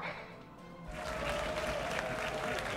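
In the video game Indivisible, a crowd breaks into cheering and applause after a quiet moment, a dense, steady wash of sound that swells and holds.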